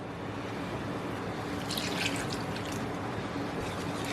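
Almond milk pours into a bowl as a soft, steady liquid trickle, faint and continuous over a low background hum, with no talking.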